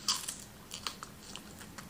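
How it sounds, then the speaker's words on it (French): Close crisp bites and crunchy chewing of a pear, a few sharp crunches followed by softer chewing, quiet and alone with no talk. "Je vous fais mes résolutions 2025 en goûtant la poire."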